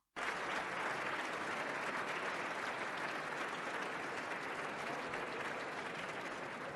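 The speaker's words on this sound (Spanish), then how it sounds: "pues fíjate cómo Dolors Montserrat inicia a aplaudir como una foca, como si fuera la más entusiasta de todas." Sustained applause fills a European Parliament chamber: dense, steady clapping from many hands that starts abruptly and continues evenly throughout, with no voices above it.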